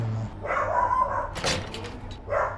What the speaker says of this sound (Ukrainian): не звертайте уваги, це мій пес.